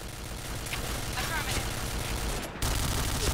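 Dense, continuous automatic gunfire and explosions from the online shooter Point Blank fill the whole stretch, with in-game voice callouts mixed into the steady barrage.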